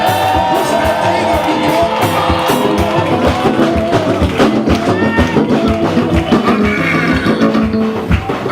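A church congregation cheering, shouting and calling out victory cries together, loud and continuous, with music and voices blending into a dense crowd roar.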